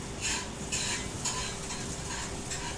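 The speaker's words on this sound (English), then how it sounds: "90 degrees and got a frying pan going." Frying pan sizzling in Destiny 2, a steady hiss with stirring scrapes swelling in several short bursts, moderately close and alone without talk.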